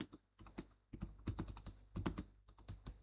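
Fingers type text on a computer keyboard in quick, close bursts of plastic key clicks, with short pauses between runs of keystrokes and no voices.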